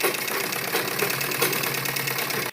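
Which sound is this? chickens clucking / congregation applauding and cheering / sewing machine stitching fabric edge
sewing machine stitching fabric edge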